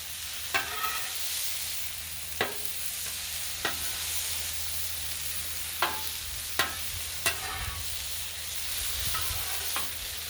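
Corn on the cob and pineapple rings sizzle steadily on a seasoned griddle, a continuous frying hiss broken by periodic sharp spatula scrapes and taps as the food is flipped.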